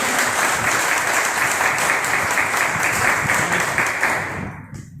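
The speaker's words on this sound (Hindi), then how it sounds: "आपकी जोरदार तालियां होगी इसके प्रोडक्ट की जानकारी के लिए" A crowd applauds loudly and steadily for several seconds at a product presentation event in India before the clapping fades out.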